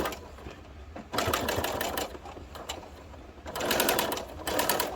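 A sewing machine stitches a folded 0.5 cm hem on a pants pocket, running in two loud, steady whirring bursts separated by a quieter pause, close up and without voices.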